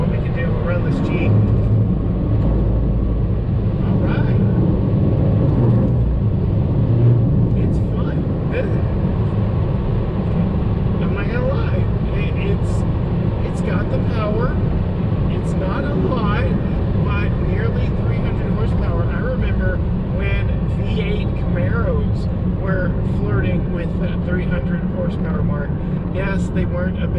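A 2022 Toyota Highlander crossover accelerates to pass a Jeep, giving a steady low engine and road rumble throughout under a voice talking over it.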